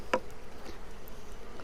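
Honey bees buzz around an open beehive as its covers are removed: a faint, steady hum with one brief sharp tap near the start.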